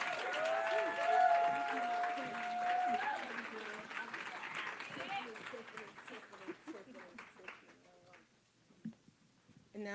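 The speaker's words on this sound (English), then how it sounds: "a round of applause?" Applause from an audience at a women's empowerment brunch as speakers leave the stage, steady clapping mixed with crowd noise and a sustained tone early on, thinning out toward the end with a few isolated sounds.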